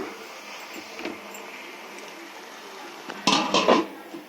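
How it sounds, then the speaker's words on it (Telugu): A metal lid set down on a cooking pot during a mulam curry fry, making a short rattling clatter near the end after quiet kitchen background. "ఇప్పుడు కొంచెం సేపు మూత పెట్టుకుందాం, మగ్గుద్ది ఇలాగా"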